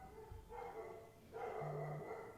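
A dog named Delilah gives a few short barks and yips close by, the calls fairly quiet and muffled against a room background.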